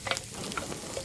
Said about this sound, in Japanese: 中華は2度炒めるんだ。